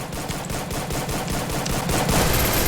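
Dense, rapid automatic gunfire from the XM8 rifle in the battle-royale game Free Fire, loud and continuous, growing slightly louder toward the end, with no talking over it.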